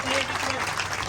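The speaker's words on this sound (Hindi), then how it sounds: "एक बार फिर जोरदार तालियों से स्वागत करते साथियों" Audience applause welcoming officials at a staff association gathering in Sonipat, a steady dense clapping that runs the whole moment while a voice talks over it.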